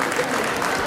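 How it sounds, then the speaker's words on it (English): An audience applauds steadily at the inauguration of Resonance 2025, a medical institute event, in a brief, dense burst of clapping from many hands in a hall. "Applause, please."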